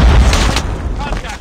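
A grenade goes off in a shooter video game, a single heavy boom at the start that fades into a rumbling tail over about a second.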